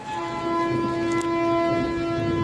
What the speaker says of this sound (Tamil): ட்ரெயின் சவுண்டு வேறு ரயில்வே ஸ்டேஷன் பக்கமாக இருக்கா வீடு